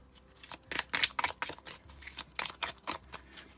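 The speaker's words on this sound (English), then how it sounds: "It's so nice to shuffle with." Tarot cards are shuffled in quick rustling bursts, a rapid riffle of flicking papery snaps repeating several times, close and fairly soft.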